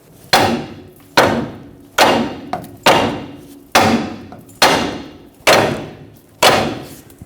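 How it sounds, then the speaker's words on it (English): A hammer strikes the track bar of a 2011-2016 Ford F-350 to free its stuck ball joint, nine loud, sharp metallic blows spaced at a steady rhythm, each ringing out briefly before the next. "Use a hammer, tap right here, and that should separate the track bar from its ball joint."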